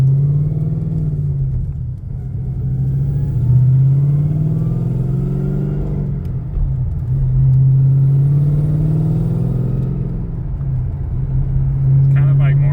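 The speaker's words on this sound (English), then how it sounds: "It's kind of like more of an induction noise than like blow or whine." A supercharged 2011 Ford Mustang engine (VMP Gen2R supercharger) drones steadily from inside the cabin, an induction noise rather than whine, its pitch rising and falling in waves as the car accelerates and eases off.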